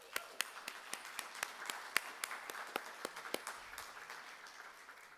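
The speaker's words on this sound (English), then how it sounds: "Let's give them a round of applause." Small audience at a Miles Davis tribute event gives faint, scattered claps, the individual hand claps sounding clearly and unevenly in a quiet room.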